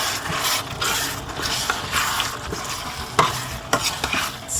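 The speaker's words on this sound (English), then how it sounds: "And we're just going to stir that all up." Black beans stirred in a frying pan, a steady scraping and sizzling with a few sharper knocks of the spoon against the pan toward the end.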